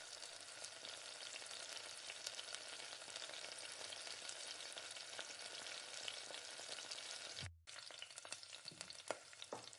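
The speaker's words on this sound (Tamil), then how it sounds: "ஒரு கரண்டியில் இந்த மாதிரி மாவை கொஞ்சம் கொஞ்சமாக எல்லா குழியிலையும் ஊற்றிக்கிடலாம்" Spoonfuls of spiced paniyaram batter go into the oiled wells of a hot pan and sizzle steadily. The close, continuous frying hiss drops out briefly near the end, then resumes with a few small pops. No voices are heard.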